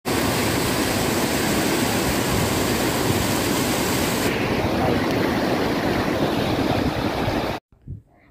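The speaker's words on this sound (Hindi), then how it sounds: "अभी एक वाटरफॉल देखते हैं।" Waterfall beside a mountain road in Sikkim between Lachen and Lachung, a loud, steady broadband rush of falling water that holds constant for over seven seconds before cutting off abruptly.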